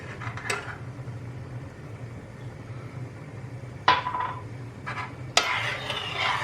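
Grape vinegar being stirred into a pot of pepper pickle in tomato sauce, with occasional metallic clinks and knocks of the spoon against the pot over a low background hum.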